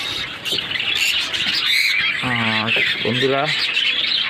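Caged pet birds, a breeding family with young, give loud harmonic squawks and bright chirps, two strong calls in the middle among steady twittering, with a person speaking briefly at the start.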